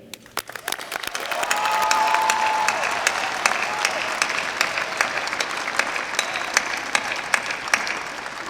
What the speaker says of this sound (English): Return the cheer that they gave you